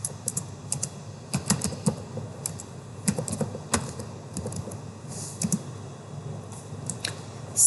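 Keys clacking on a computer keyboard as a name is typed, an irregular run of close, crisp taps with brief pauses between bursts over a low room hum.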